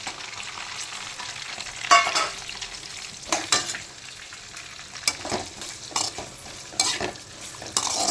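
Onions and green chillies frying in hot oil for masala semiya upma, a close soft sizzle broken by repeated scraping clinks of a spoon stirring the pan at an irregular rhythm.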